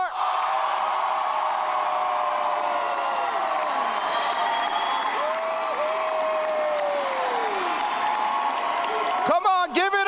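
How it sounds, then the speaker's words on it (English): Graduation ceremony crowd for Valor College Prep's first graduating class applauding, whooping and cheering, a steady wash of applause with shouts rising over it and a few whistles; more sharp cheers burst in near the end. "Please join me in applause for the graduates of Valor College Prep."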